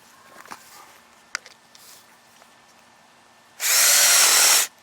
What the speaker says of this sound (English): I just drill a hole here through the middle